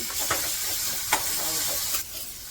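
A mixture seasoned with turmeric and salt sautés in a pan, giving a steady close sizzle with a few sharp scraping stirs at intervals and no voices.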